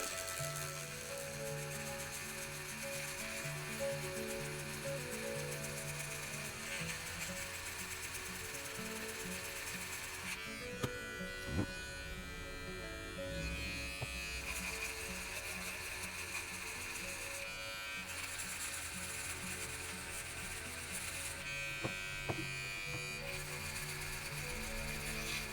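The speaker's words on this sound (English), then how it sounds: "we're going to go ahead and use our G tool to sand this down and get it even with the rest of it." Small handheld rotary tool with a glued scrap of 80-grit sandpaper sanding down cured printer resin, a faint continuous high whine with scratchy grinding that shifts in tone as pressure changes, with occasional light clicks.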